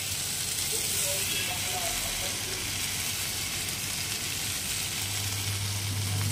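A fritter made with fish oil sizzles in a pan with only a little added oil, producing a steady, close, even frying hiss with no break.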